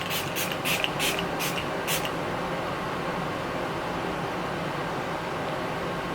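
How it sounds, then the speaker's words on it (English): Huda Beauty makeup setting spray misted in about six quick, close pumps over the first two seconds, followed by a quiet background hiss. "And this is the setting spray."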